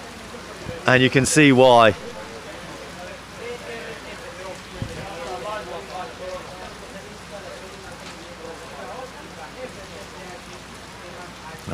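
Heavy rain falls steadily at a grandstand at a FootGolf world championship in Acapulco, a dense hiss of drops continuing under a man's speech, with a brief loud burst near the start.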